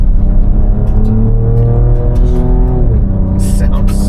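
Ford Ranger Raptor driving at speed on a washboard gravel road, with a loud, constant engine drone and rumbling road noise filling the cabin and a brief rattle near the end.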